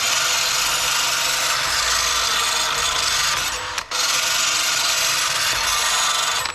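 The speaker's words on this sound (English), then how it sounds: "all you do is put this on a drill, put her on fast" A drill-driven sharpening wheel grinds a Craftsman M110 lawn mower blade at high speed, a steady, harsh rasp running continuously, loud and close, with one brief dip in the middle before resuming.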